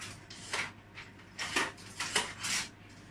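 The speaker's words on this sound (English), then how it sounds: "now I'm going to get like a salad spoon" Kitchen utensils rattle and clink as a salad spoon is pulled from among them, a few bright close metallic jangles spaced over a couple of seconds in a quiet kitchen.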